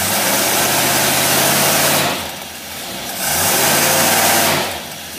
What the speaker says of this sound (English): The rev limiter kicking in at 5.